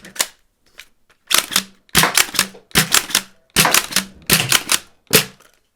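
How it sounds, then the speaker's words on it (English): Lynx foam dart blaster firing darts, a series of about eight sharp, loud mechanical snaps and clacks at an uneven rhythm, close up with no talking. "Okay, let's put some darts through it."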